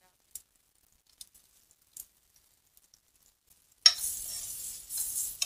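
Bitter gourd pieces hit a hot tempering of oil with asafoetida and turmeric, bursting into a loud, steady sizzle after a few soft clicks and near-silence.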